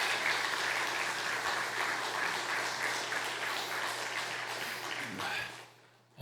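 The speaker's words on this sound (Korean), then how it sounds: "힘찬 박수로 우리 환영해 주시고 격려해 주시면 좋겠습니다" A congregation at a Sunday afternoon church service applauds in welcome, with strong, dense clapping that holds steady for several seconds and then fades out near the end, under a low steady hum.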